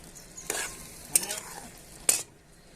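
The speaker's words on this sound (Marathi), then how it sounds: "आता आपण भेंडी घालून घेऊया तळून काढलेली भेंडी चांगली छान अशी परतून घेऊया" Fried okra sautéed in masala in a pan, a soft low sizzle broken by three distinct scraping stirs of a spoon, close and fairly quiet.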